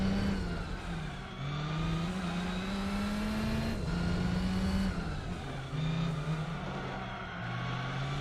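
Car engine revving loudly and continuously in the Gran Turismo 4 racing game, a steady drone rising in pitch through gear shifts, close and dominant with no talk.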